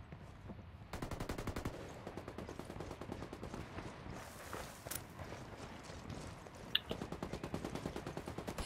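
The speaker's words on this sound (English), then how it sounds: "Shit, taking fire." Rapid automatic gunfire from a tactical shooter video game, sustained bursts of sharp, fairly quiet shots with a few brief pauses and footsteps-like clatter mixed in.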